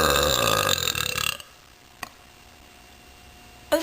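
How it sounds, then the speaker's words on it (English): A person lets out a loud, drawn-out burp lasting over a second, followed by near silence with a faint click and a brief noise at the end. "I haven't burped like this in like a year though"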